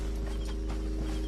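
Horse hooves clip-clop in a steady, even rhythm inside a game, moderately close, over a constant low hum with no talking.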